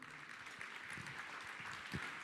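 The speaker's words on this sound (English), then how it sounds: "Give a huge round of applause for them as well." Audience applause for sponsors at a business ethics awards gala, soft, distant scattered clapping from a large room with a few louder claps and low thumps mixed in.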